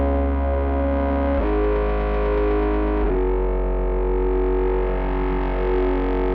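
A bass sample run through Minimal Audio Rift distortion and Baby Audio tape growls thick and gnarly with dense harmonics, holding sustained notes that shift pitch twice, loud and alone.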